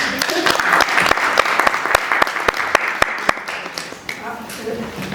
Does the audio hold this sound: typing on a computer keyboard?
no